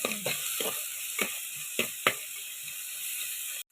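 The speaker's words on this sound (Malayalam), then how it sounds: "ഉള്ളി ഒന്ന് മൂപ്പിച്ചെടുക്കാം" Onions sauté in a hot pan for a dal dish, with a continuous sizzle broken by several scraping stirs of a spoon, close and steady until it stops abruptly at the end.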